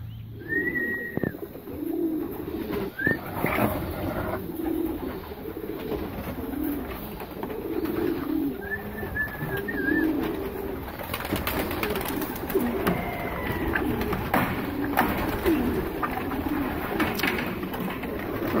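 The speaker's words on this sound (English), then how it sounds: "Ralph is letting out his racing homers, pigeons." Racing homer pigeons coo repeatedly in soft, low, rhythmic phrases as they are let out outdoors, with a few higher calls and light rustling over a steady background.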